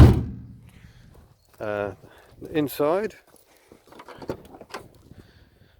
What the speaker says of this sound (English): First of all, I've got to demonstrate the door. That's a horrible noise, but nonetheless it does seem to shut.